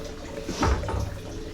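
A kitchen tap runs in the background as a continuous low wash, swelling briefly with a splashier gurgle midway, and no one speaks over it.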